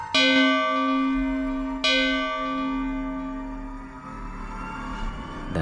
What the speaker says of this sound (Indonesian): bel berbunyi.